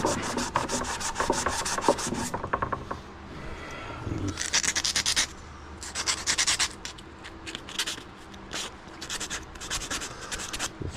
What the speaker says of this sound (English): scuff this up a little bit.